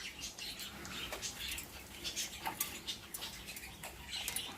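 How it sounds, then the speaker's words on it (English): African grey parrots in a pet shop give a busy run of sharp chirps, whistles and squawks, fairly close and overlapping, with no pauses across the stretch. "African grey parrots."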